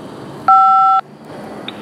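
A single steady two-tone electronic beep from a prison phone call system, lasting about half a second, clear and loud over a faint background hiss.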